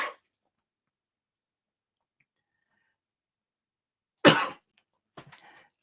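A person alone in a quiet room lets out a short cough at the start, then a louder harsh cough a few seconds later, followed by a softer throat-clearing rasp.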